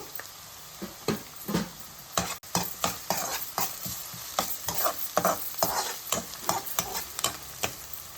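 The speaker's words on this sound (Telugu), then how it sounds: "ఇది బ్రౌన్ కలర్ వచ్చే వరకు మనం ఫ్రై చేసుకుందామండి" Chopped onions fry in a pan with salt and green chillies, a continuous sizzle broken by regular scraping strokes of a spatula about twice a second, close and fairly quiet, with no talking.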